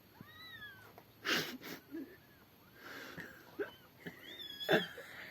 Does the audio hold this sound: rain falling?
no